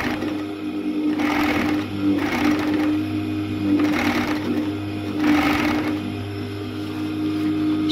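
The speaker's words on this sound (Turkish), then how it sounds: "Şu an 3 iplikle dikiş yaptım." Overlock sewing machine running a three-thread stitch, trimming the fabric edge with its blades as it sews; a steady, loud mechanical whirr with rhythmic surges, close up and with no talking.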